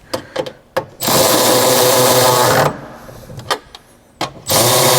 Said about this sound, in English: I think if I tighten the bumper in